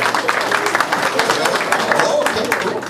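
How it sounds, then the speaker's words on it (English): A stand-up comedy audience claps for the married couples in the crowd, a fairly loud, continuous wash of many hands with some crowd murmur and voices mixed in. "Married couples, round of applause."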